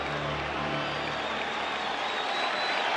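Dense, steady roar of a big Wrigley Field crowd at a Cubs versus Padres Wild Card playoff game, a continuous wash of cheering with no breaks across the moment.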